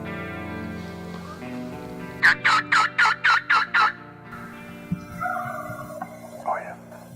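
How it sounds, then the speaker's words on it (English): Wild turkey gobbler gobbling uphill in timber, one loud, rapid rattling burst of about seven pulses at moderate distance, followed by quieter outdoor rustles and faint sounds. "So we've got a gobbler talking to us up here."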